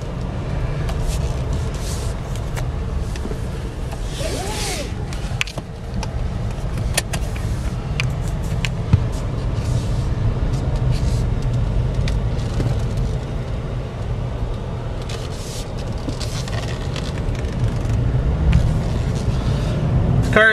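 A 2014 Cadillac CTS 2.0 turbo four-cylinder AWD, a salvage repairable car, drives around the block, heard from inside as a steady low engine and road rumble with occasional small clicks and rattles.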